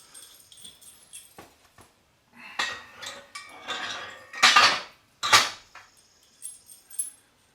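Metal bolts for a 12-ton shop press clink and jangle as they are picked up, several bright close metallic rattles with two louder clanks near the end and short pauses between.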